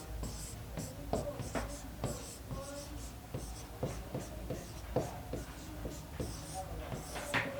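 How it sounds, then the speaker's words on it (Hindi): Devanagari letters of Hindi script are written by hand in a classroom lesson, a quiet run of close, scratchy pen or chalk strokes in irregular bursts, with soft faint voice in the background. "मैं लिख देता हूं"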